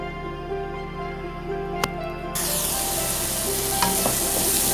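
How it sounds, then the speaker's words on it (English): Chili, garlic and onion sautéing in hot oil for Thai spicy stir-fried pork with basil, a steady close sizzle that jumps louder partway through, with a single sharp utensil knock before it, no voices. "I've got the chili, in Thai it's called prit, and garlic, which is gatiem, and onion sauteing"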